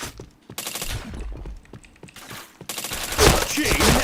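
Rapid bursts of gunfire in a shooter video game, with dense automatic fire and loud clustered shots coming in waves, heavier toward the end, while a player talks briefly over them.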